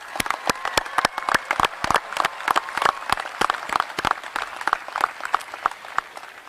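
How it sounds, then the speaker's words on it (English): An audience at a high school graduation applauds the graduating class, with sharp individual claps standing out close by against softer background clapping in an irregular, lively rhythm. "If you would give them a huge round of applause."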